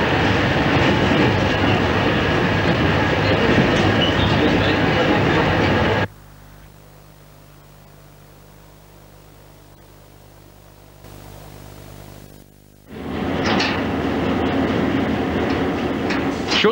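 A standard gauge passenger train on The Ghan line rumbles loudly along the tracks with steady clatter, then drops to a quiet hum for several seconds before the loud rolling noise returns.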